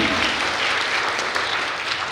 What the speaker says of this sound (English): I think all the talents need another round of applause.